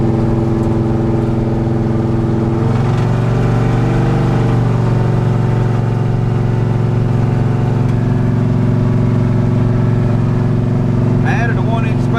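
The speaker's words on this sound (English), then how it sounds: "we are headed for a ride in old Candy Kane with the 402 back in here" Old car nicknamed Candy Kane with a 402 big block Chevy engine, a loud steady low rumble while riding, pitch shifting briefly as it pulls, with a faint squeak near the end.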